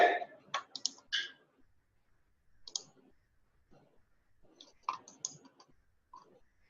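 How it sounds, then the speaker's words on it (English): Sparse, faint clicks of a computer keyboard come in short quiet clusters separated by near silence, close and soft. "Why are you typing so?"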